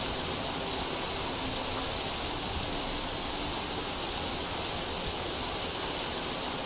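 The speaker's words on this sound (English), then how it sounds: "You're gonna give me hail?" Hail pours down during a storm in Vintage Story, a dense, even hiss of falling ice with no breaks, steady and fairly loud, and no voices.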